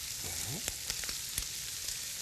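Minced garlic, onion and button mushrooms stir-frying together in a hot oiled pan, giving a steady close sizzle with a few sharp clicks of the utensil against the pan and no talking.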